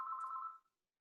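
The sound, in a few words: telephone ringing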